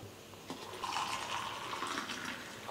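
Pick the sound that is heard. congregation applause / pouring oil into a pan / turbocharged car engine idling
pouring oil into a pan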